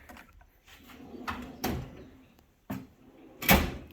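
A drawer on a 54-inch Master Series XL tool chest slides open and shut, giving several separate rolling thumps with short quiet gaps between them, the loudest coming last.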